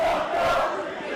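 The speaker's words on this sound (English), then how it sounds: "The crowd's letting him know that he messed up." A wrestling crowd at an AAW pro wrestling event roars and jeers after a wrestler's mistake, a dense, loud wall of voices that holds steady for about a second.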